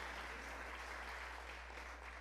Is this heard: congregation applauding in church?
yes